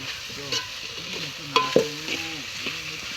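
Onion sev curry being stirred in a pan with salt and spices, a close soft scraping and gentle sizzle with a few louder spoon knocks against the pan.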